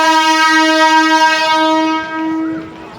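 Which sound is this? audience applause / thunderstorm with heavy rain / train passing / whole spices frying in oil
train passing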